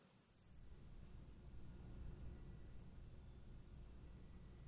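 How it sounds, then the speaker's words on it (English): Tiny pipe organ pipe, no larger than a pinky finger, sounding a single sustained very high whistle-like note held steadily throughout, fairly quiet over a soft low room hum. "The smallest pipe sounds like this."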